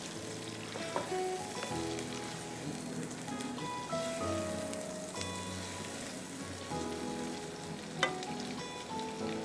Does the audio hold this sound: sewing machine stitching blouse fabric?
no